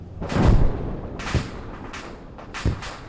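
Explosive blasts from a tank being struck in a military training video game, three sharp booms spaced about a second apart, the first heaviest and rumbling, each trailing off into noisy reverberant decay.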